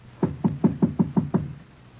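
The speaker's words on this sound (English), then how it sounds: "Knock." Door knock sound effect in an old-time radio drama: seven firm, evenly spaced knocks on a wooden door, close and loud, then silence.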